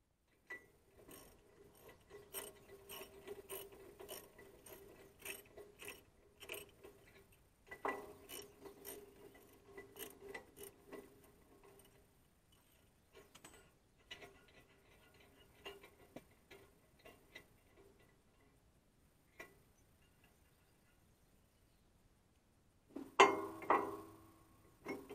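Ratchet loosening bolts on a broken part of a Stara subsoiler, producing long runs of quiet, quick ticking clicks broken by pauses, with a louder metallic clatter near the end.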